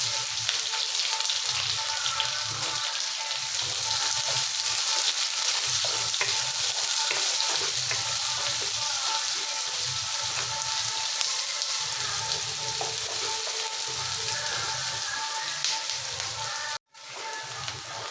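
Sliced onions and curry leaves sauté in a pan for a simple chicken kuzhambu, giving a steady, close hiss of frying with stirring scrapes throughout and a brief dropout near the end.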